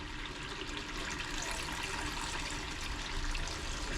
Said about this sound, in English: I'm throwing that water one spot